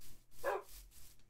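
A single short bark from a dog in the Minecraft video game, heard once near the start amid low background game sounds.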